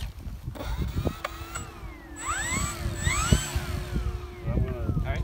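A small electric motor on an RC airplane whines through rising and falling throttle sweeps, fairly close, with clicks and handling noises around it.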